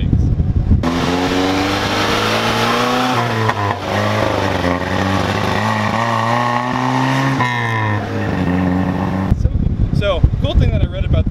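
A 1977 Fiat 124 Spider with a five-speed gearbox and 150,000 miles drives under load, its engine rising and falling through gear changes, loud and close for most of the stretch before cutting to quieter sounds at the end.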